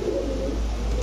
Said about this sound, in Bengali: এটা হচ্ছে দর্শক দুবাইয়ের কবুতর